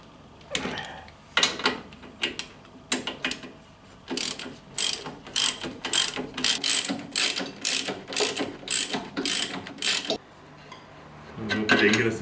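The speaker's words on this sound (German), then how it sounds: "Die Schrauben zieht er jetzt mal so weit an, wie es von hier geht." Screws on a floating brake caliper are tightened with a ratchet, giving repeated bursts of rapid clicking in an uneven rhythm, close and fairly quiet, with pauses between strokes.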